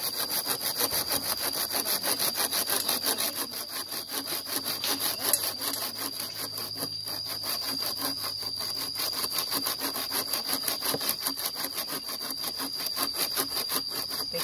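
A hand saw cuts through wood in a forest with fast, steady back-and-forth rasping strokes, close and continuous, with no one talking.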